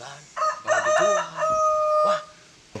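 A rooster crows once, loud and close, a drawn-out call that rises and holds before trailing off, in a Sundanese comedy skit set around chickens, with a short knock at the very end.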